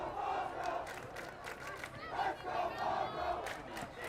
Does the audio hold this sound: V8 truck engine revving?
no